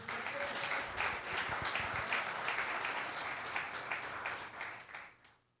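A church congregation claps together, a dense, sustained wash of applause that holds steady and then tapers off near the end.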